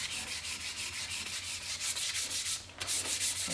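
Light-pressure hand sanding on a wooden rifle stock, rhythmic back-and-forth strokes rasping close and steady, with a brief pause near the end before the rubbing resumes; no one speaks.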